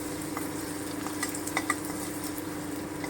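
Chopped onion frying lightly in a pan gives a steady, soft sizzle with a few faint crackles, continuous for the whole stretch, with no voices.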